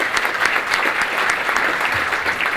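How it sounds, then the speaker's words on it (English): Chamber of Commerce luncheon audience applauding a cruise company donor, a dense, lively round of clapping from a roomful of people, close and continuous throughout. "please give them a round of applause"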